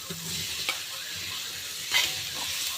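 Potatoes, carrots, capsicum and chillies fry in a pan with a soft, steady sizzle while a utensil stirs and scrapes them, giving occasional louder clinks; close and fairly quiet, with no talking.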